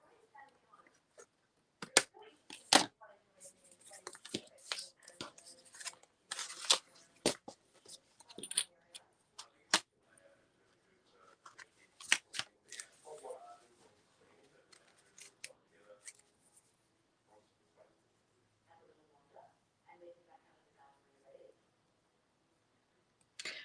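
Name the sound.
trimming paper or card for a craft pocket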